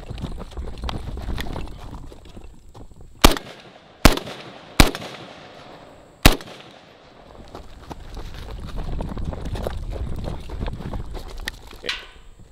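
Tavor 7 bullpup rifle in 7.62x51 (.308) fires four loud, sharp outdoor shots at uneven intervals, each a sudden crack with a short decay, set over steady background noise and rustle.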